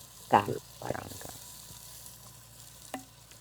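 Onions sauté in a pan in a home kitchen, with two short scraping stirs near the start, a faint steady sizzle, and a brief clink of a spoon later.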